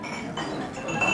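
Silver spoons clink against glasses at tables during a memorial celebration, several bright, irregular glassy clinks that are moderately close and sit over soft room murmur.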